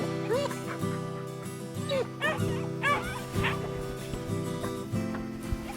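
A playful Labrador retriever barking, yipping and whimpering in short bursts, several close yelps and whines spaced irregularly over a faint steady background.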